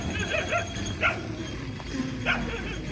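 Two or three short dog barks ring out at a moderate distance, spaced about a second apart, over a steady background rumble.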